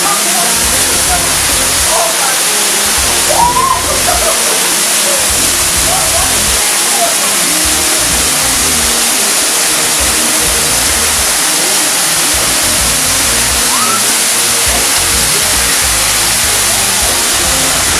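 Rushing river water during a raft outing, a loud, steady broadband roar filling the whole clip, with occasional faint voices underneath.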